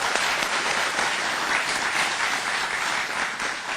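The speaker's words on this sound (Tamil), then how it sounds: "நம்ம சகலகெல்லாம் வல்லவனுக்காக ஒரு பலத்த கைத்தட்டல் கொடுத்தா நல்லா இருக்கும்னு நினைக்கிறேன்" A studio audience gives Kamal a loud welcoming ovation at an interview event, continuous heavy applause from many hands filling the room without pause.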